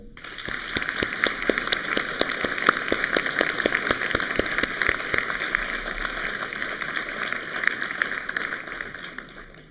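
An audience applauds the mayor's team of councillors at a New Year's address: dense, steady clapping with sharp individual claps, loud and continuous throughout, with no talking.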